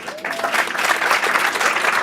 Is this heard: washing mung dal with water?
no